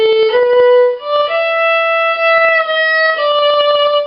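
Second violin part from The Wizard of Oz, measure 83, played as a short run of sustained bowed notes stepping through a few pitches, close and clear with no talking.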